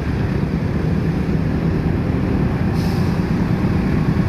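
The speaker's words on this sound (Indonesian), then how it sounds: "mohon diperhatikan jalur 1 kereta api melintas langsung" A commuter train running through Cikini station in Jakarta on a morning, a steady loud broadband rumble throughout with a faint hiss entering near the end.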